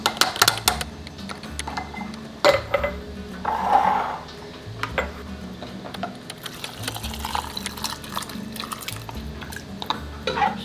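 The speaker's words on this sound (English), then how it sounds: "Ladle your hot soup into your jar, leaving 1-inch headspace." Hot Thai coconut squash soup being ladled into a glass canning jar: scattered clinks of metal ladle against glass and pot, with soft liquid pours and splashes, close and moderately loud, intermittent over several seconds.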